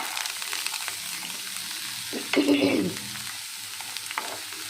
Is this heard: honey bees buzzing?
no